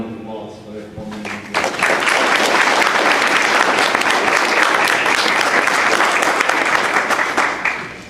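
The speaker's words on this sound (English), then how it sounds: "I think there's no reason why we shouldn't give them a round of applause for their performance." An audience at a Republican candidate forum debate breaks into loud, sustained applause after a moment of speech, the clapping filling the room until the end.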